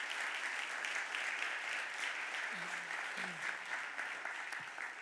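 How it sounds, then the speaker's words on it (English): Sustained applause from a crowd at a city budget address in Philadelphia City Council, steady hand-clapping filling the whole stretch, with a few faint voices underneath. "Please give them a round of applause"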